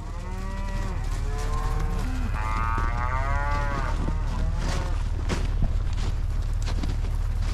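Cows moo repeatedly at hay feeding time, long drawn-out lowing calls near and far, over a steady low rumble of background noise.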